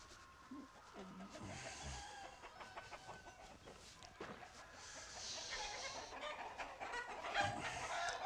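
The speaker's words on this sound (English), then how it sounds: "This is the field with the roosters." Roosters in an open field on a poultry breeding farm, with scattered clucks and short calls at a moderate distance over steady outdoor background noise.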